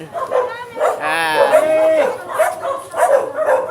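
Several dogs bark and yip nearby, with whining and howling mixed in, while a person talks over them.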